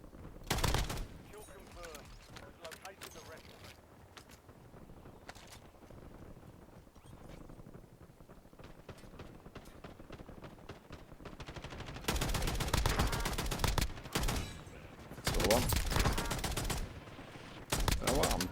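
Bursts of automatic gunfire from the Fang weapon in Call of Duty Warzone, with short rapid volleys early on and longer, louder sustained bursts later, interspersed with quieter stretches and some talk.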